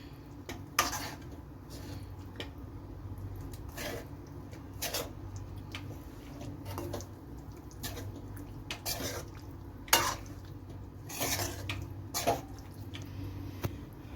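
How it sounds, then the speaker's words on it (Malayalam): Fish pieces being stirred into gravy for a homemade kilimeen fish pickle, giving soft, scattered clinks and scrapes of a utensil in a pot, fairly quiet over a steady low hum. "നമുക്ക് ഈ ഗ്രേവി ആയിട്ട് നമ്മുടെ മീൻ നന്നായിട്ടൊന്ന് മിക്സ് ചെയ്തെടുക്കാം"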